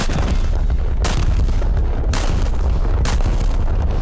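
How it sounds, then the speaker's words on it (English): Naval ship turret guns fire in the War Thunder video game, three heavy booms about a second apart over a loud continuous rumble of battle noise. "that will allow you to shoot one turret at a time instead of one gun"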